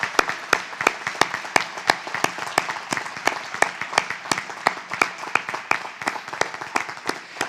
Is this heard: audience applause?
yes